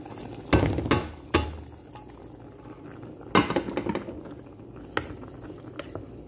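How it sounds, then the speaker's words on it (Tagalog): A spoon knocks and scrapes against a pot as sautéed onion is stirred into a mulukhiyah (saluyot) dish, with a few loud clanks, softer scraping and a light simmering hiss, no talk. "pagkatapos natin igisa yung ating onion, ihalo natin siya dito"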